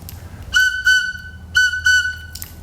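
Native American whistle carved from a turkey bone, playing two pairs of clear, steady high tones in a repeating pattern, each pair of blasts separated by a short pause, loud and close against a quiet room.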